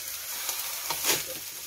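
Sauce added to a hot pan of squid fried rice, giving a steady sizzle and hiss with a brief louder burst of frying partway through, close and alone.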